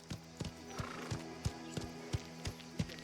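Horse hooves clip-clop at a steady walking rhythm in the video game Mafia: The Old Country, close and clear over a low ambient hum.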